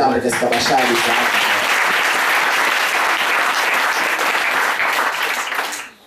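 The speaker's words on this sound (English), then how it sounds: "Maybe we can clap hands for them." A church congregation applauds loudly and steadily for several seconds, briefly over a voice at the start, then fades out.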